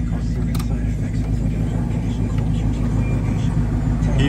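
A 1974 Dodge Challenger engine idles steadily close by, a deep rumbling hum with a constant low throb and no pauses across the whole stretch.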